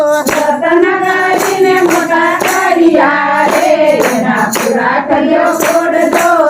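Steady rhythmic hand claps keep time beneath a group singing a devotional Gujarati kirtan at a satsang, the sharp claps landing regularly about twice a second alongside the voices.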